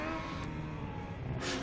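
Formula Student race car circling the track from the North Curve back into the arena, a steady engine drone throughout with a brighter rise of revving at the very end.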